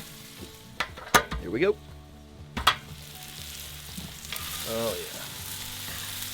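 Onions fry in bacon grease in a hot pan with a steady sizzle, broken by a few sharp stirring clatters, while someone speaks briefly over the cooking.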